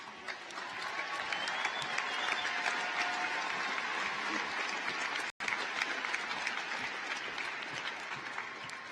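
An audience claps steadily at a high school graduation ceremony, broad sustained applause filling a large hall, with a brief dropout midway.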